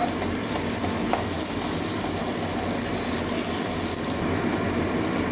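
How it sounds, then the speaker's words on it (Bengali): Chopped onion frying in oil, a steady close hiss of sizzling with a few light clicks, continuous and fairly loud, no voices. "ভালো করে ভেজে নেবো পেঁয়াজটা কাঁচা গন্ধ যাওয়া পর্যন্ত"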